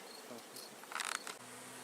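Honeybees buzz at an open beehive while frames are worked, a faint continuous insect hum that swells briefly louder midway as bees pass close, with no talk.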